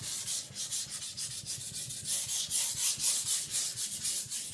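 A Victorinox Chinese cleaver is stroked over a sharpening stone in steady back-and-forth rubbing strokes, close and fairly quiet, with no voices.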